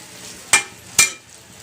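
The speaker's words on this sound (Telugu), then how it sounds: "కొంచెం ఆలును మగ్గనిద్దామండి." Potatoes cooking in a pan for a potato curry with gravy, a low soft sizzle broken by two sharp scraping stir strokes close by, no voices.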